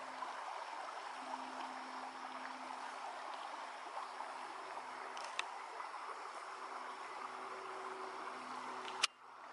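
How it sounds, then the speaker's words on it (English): A woodland stream runs with a steady, soft rush and trickle of water throughout, quiet and continuous, with a brief sharp click near the end. "Love the sound of the running water."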